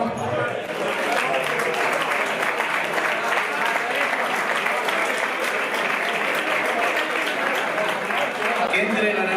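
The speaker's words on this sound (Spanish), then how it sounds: "Mari Carmen Climent, un aplauso." Sustained, dense applause from a large audience at a bullfighting gala in Segorbe, steady and loud throughout with a crowd roar beneath the clapping.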